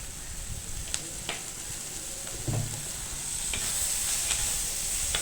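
Dried red chillies, shallots and curry leaves sizzle in hot oil, a steady close frying hiss with a few light scrapes of stirring. No voices can be heard over the cooking.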